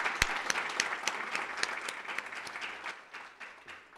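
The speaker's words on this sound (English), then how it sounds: "So please help me give the Southgate Rotary a big round of applause." An audience applauds the Southgate Rotary at a city's State of the City event, with loud, sharp claps up close over a broad crowd applause that gradually tapers off.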